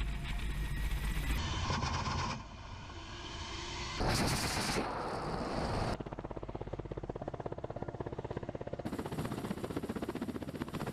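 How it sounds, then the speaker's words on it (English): Ka-52 attack helicopter firing on Ukrainian armored vehicles in combat: loud bursts of gunfire and heavy rapid firing alternate with dense roaring noise and a steady rotor-like drone, all continuous and close. "The Ka-52 crews of the Central Military District hit armored vehicles and the stronghold of Ukrainian soldiers"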